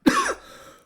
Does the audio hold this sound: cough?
yes